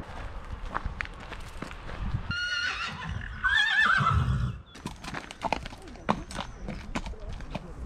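A horse whinnies loudly close by at an equestrian centre in Provence, amid hoof clip-clops and footsteps on the ground.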